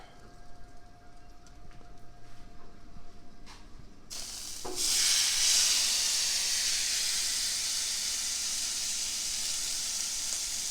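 A steak lands on a hot Blackstone griddle and breaks into a loud, steady sizzle that hisses on without pause after a brief clatter, close and unbroken by any talk.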